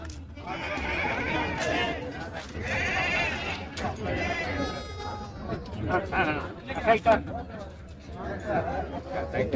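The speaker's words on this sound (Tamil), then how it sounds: "ரெண்டு குட்டியோட வெள்ளாடு" A goat with two kids bleats at a quiet goat market, with repeated calls heard close by among steady human chatter and talking in the background.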